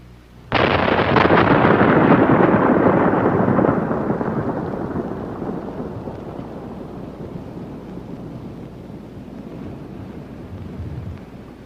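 Primer cord detonating in shot holes for a crater test: one sudden loud blast that rolls on as a long, slowly fading rumble.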